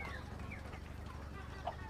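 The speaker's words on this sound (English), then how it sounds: "The chickens like the car," Chickens clucking softly in a short burst of farmyard fowl sounds, close by over a low background hum, with one brief sharper cluck near the end.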